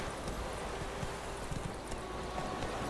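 Hooves of the horse in The Witcher video game: steady, soft clip-clop footfalls at a walking rhythm, faint and close, over a constant ambient game background.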